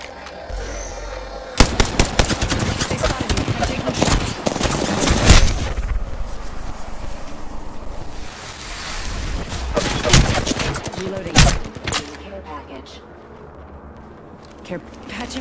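Gunfire in the video game Apex Legends: dense bursts of rapid automatic shots and single cracks, loud and close, with heavy volleys that thin out toward the end; a voice talks briefly over the shooting.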